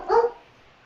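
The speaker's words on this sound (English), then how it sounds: "Sorry, my dog." A single short dog bark with a slight whimpering tail, close and fairly loud, quickly fading to quiet room sound.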